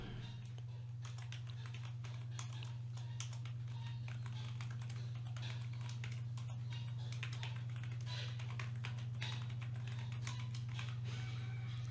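Fingers type on a computer keyboard with rapid, irregular clicks of quiet keystrokes over a low steady hum, close and soft, continuing without pause.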